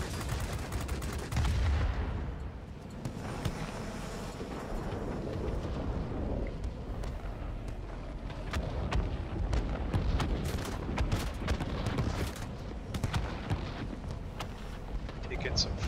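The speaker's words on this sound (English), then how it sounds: "Taking some flak here." Anti-aircraft flak fire in the World of Warplanes combat game, a dense barrage of bursts and cracks over a steady engine drone, loud and continuous throughout with a heavy rumble.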